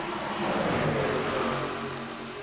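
Pack of NASCAR stock cars racing at Talladega in a racing video game, a steady loud engine drone that holds a constant roar throughout, with no talk over it.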